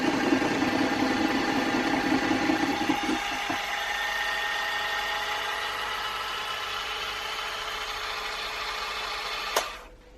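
An electric hand mixer beats gluten-, lactose- and yeast-free lemon tray cake batter in a mixing bowl, a steady close whirring hum that runs for about nine seconds and cuts off with a brief clunk near the end.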